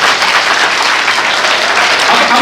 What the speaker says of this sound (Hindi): इसके लिए ताली बजाओ एक बार जोरदार।